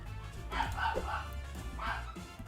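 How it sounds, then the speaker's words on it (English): Dogs bark and yip in the video game HuniePop 2, several short woofs and whimpers over a low background hum, with a voice talking underneath. "Oh, the dogs are getting riled up."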